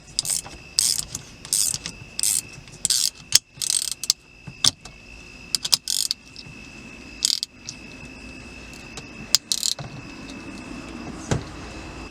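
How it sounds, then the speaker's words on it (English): A hand ratchet tightens the nut on an Audi B8/8.5 short throw shifter in intermittent bursts of quick clicking, close up, with pauses between strokes and a steady background whine. "Tighten this nut very tight."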